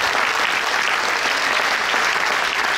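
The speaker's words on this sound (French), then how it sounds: "vous pouvez applaudir tous les Corréziens" A dense, steady wash of applause from a crowd at a campaign rally in Brive-la-Gaillarde, loud and continuous with no gaps and no clear speech.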